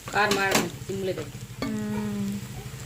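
Spiced chicken curry with chili powder and turmeric fries in a pan, a steady soft sizzle with occasional stirring scrapes while a voice talks over it.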